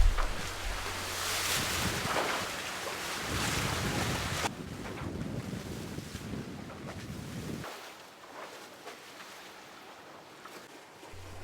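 HH55 catamaran under sail at about 9.5 knots, 40 degrees apparent wind with both sails drawing: steady loud wind buffeting on the microphone over rushing water along the hulls, easing to a quieter hiss near the end.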